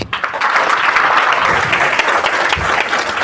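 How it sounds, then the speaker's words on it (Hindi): Sustained audience applause at an RCM business motivational seminar, steady and loud throughout, a full room clapping on cue with no speech over it. "लास्ट 10 मिनट ताली बजा दीजिए।"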